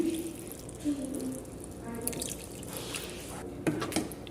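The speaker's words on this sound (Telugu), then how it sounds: "దీంట్లో వాటర్ యాడ్ చేసుకుందాం మనం రెండు కప్పుల నీళ్లు పోస్తున్నాను" Two cups of water are poured into a pot of bisi bele bath on the stove, soft splashing and dripping trickles heard faintly in a quiet kitchen with a few short knocks.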